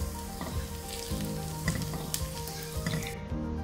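Chopped onion and whole green chillies frying in a pan for an aloo palak curry, a steady close sizzle with soft stirring scrapes and small crackles and no talking.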